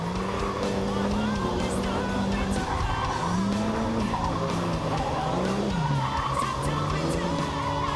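A supercar built with F1-derived technology drifts as its rear tires squeal and smoke, a loud continuous engine roar with wavering, rising and falling tire screeches through the whole stretch.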